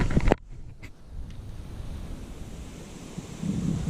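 Wind blows steadily across a lake bank during pike fishing, a continuous broadband rush with a few sharp handling knocks at the start, close and fairly faint, with no voices.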